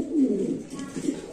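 Show King pigeons, young red birds in a fancy pigeon loft, give a soft, low coo lasting about a second, close and fairly clear against faint background noise.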